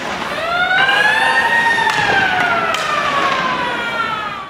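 A voice imitates a wailing siren as a sound effect. One loud, sustained rising-and-falling whoop runs for several seconds, close and with no other talk.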